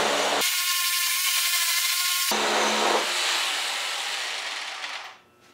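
A Black and Decker saw cutting through a 2x4 of wood: a loud, steady buzzing motor with harsh rasping blade noise, shifting tone partway through, then trailing off as the cut finishes.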